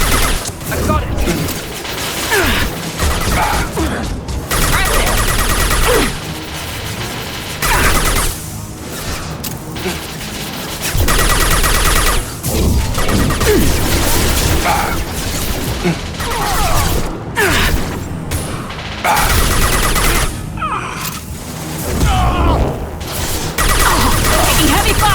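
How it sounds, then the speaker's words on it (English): Chaotic Mass Effect 2 firefight with bursts of rapid gunfire and crashing explosions, loud and dense, broken by short lulls, with shouted voices mixed in among the combat. "Taking heavy fire!"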